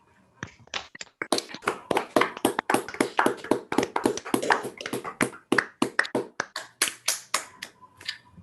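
Scattered online attendees clap at the end of an academic lecture, with a string of sharp, close, irregular hand claps coming through unmuted microphones and no talking over them.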